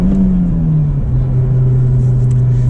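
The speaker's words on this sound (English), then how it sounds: "All right, a little bit of acceleration." A 2024 Honda Civic Type R accelerates, a loud, close engine rumble whose droning tone shifts and climbs briefly over a couple of seconds, with no talking.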